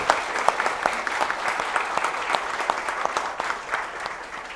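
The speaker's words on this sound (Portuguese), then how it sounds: "eu gostaria uma salva de palmas" Audience applause at an informal café talk gathering, a lively mass of claps with distinct sharper individual hand claps standing out, continuous and fairly close throughout.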